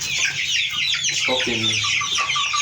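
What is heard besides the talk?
Kuroiler chickens clucking in poultry unit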